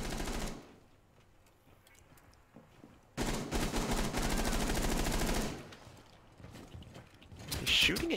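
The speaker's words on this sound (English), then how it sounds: "He's shooting at you, not me." Rapid automatic gunfire from a tactical shooter game, Counter-Strike or Rainbow Six, rattles in a long, loud sustained burst midway, with quieter stretches of game noise before and after.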